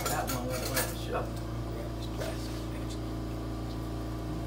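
A spatula working under a loaded melted sub sandwich on a hot surface, with several quick metallic scrapes and clinks early on over a constant low hum and faint sizzle.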